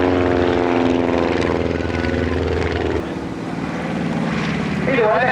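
An SE5 First World War fighter aircraft flies at Woodchurch, its steady propeller and engine drone loud and continuous, easing slightly partway through, with someone narrating over it.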